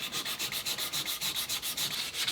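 Sandpaper rubs back and forth along a wooden rifle stock, front to back with the grain, in a quick, even rhythm of about a dozen close strokes with no voices.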